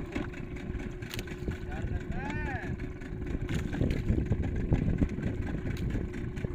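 Steady low drone of a fishing boat engine running on a jigging trip at sea, a continuous rumbling hum that grows slightly louder toward the end, with people talking over it.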